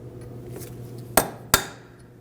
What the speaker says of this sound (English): free up the axle from the hub using a punch and a hammer.